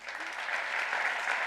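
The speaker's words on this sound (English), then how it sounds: "I think we can applaud them" Audience applause for a small student jazz band at a university research awards ceremony, a steady wash of clapping that swells slightly over its short span.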